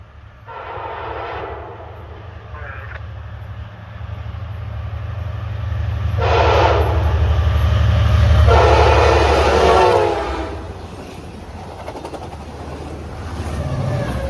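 An Amtrak passenger train rumbles past steadily while its horn sounds in several long blasts, loud and close, with wheel noise continuing after the horn stops.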